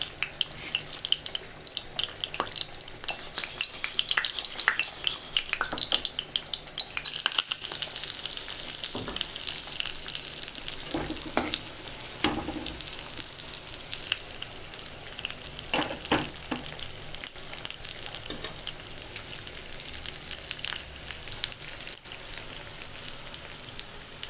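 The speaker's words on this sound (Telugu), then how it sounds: "పోపు కోసం స్పూన్ ఆయిల్ వేసుకొని పోపు రెడీ చేసుకుందాము." Spice seeds for a tempering crackling and sizzling in a spoonful of hot oil, a continuous fizzing hiss broken by sharp pops and occasional clinks of a spoon against the pan.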